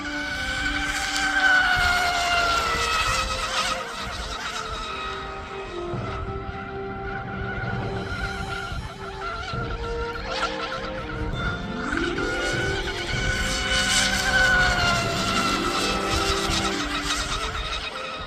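An Oxidean Marine Scorpion Rigger RC boat racing laps on the water produces a continuous, high-pitched motor whine that rises and falls in pitch as it passes and circles, with no voices.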